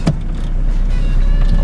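A small, light car's engine runs in a loud, steady low rumble, with a short knock near the start and no voices.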